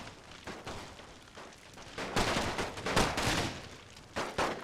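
Rifle infantry firing in a First World War siege battle in the strategy game The Great War: Total War. Volleys of overlapping shots crackle in uneven bursts, some with heavier booms, over a steady battlefield din.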